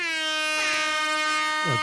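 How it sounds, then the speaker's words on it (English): A loud air horn blares in one sustained, brassy blast, dipping briefly at the very end. "get Kelsey the air horn"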